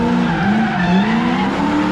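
A Lexus LS400 drift car slides with a sustained, loud tire squeal and engine drone, the pitch slowly rising before cutting off abruptly.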